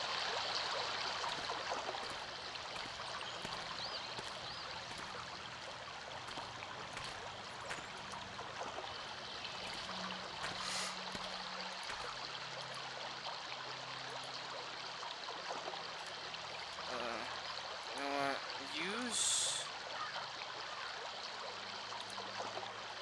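A river stream flowing near a sawmill in the game Anna, a steady continuous rush and trickle of water heard alone at low level, with a brief faint creak partway through.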